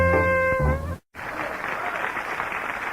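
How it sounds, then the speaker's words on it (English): Applause played on a radio broadcast follows a sustained tonal sound that ends in a brief cutout; the clapping then continues as an even, moderately loud wash until the end. "Let's hear it, gang. A little applause"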